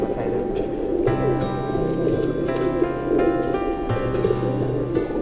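Racing pigeons coo in a loft, a steady chorus of low, throaty, repeated coos layered over one another at close range, with scattered higher bird calls and faint background voices.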